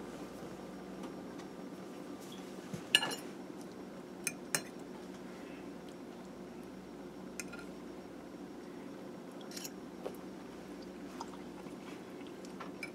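A fork clinks lightly against a plate of creamy fettuccine with asparagus, lima beans, green beans and grated Parmesan, giving a few faint, close taps followed by soft, quiet chewing over a low steady room hum.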